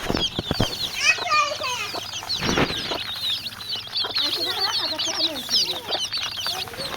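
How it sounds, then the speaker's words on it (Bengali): Young desi chicks in a sunny rearing pen, many overlapping high peeping chirps and clucks, close and continuous, with a brief flutter of wings and a voice talking now and then. "এগুলো হচ্ছে দেশি মুরগির বাচ্চা দেখতে পাচ্ছেন দেশি মুরগির বাচ্চা"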